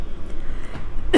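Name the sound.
cough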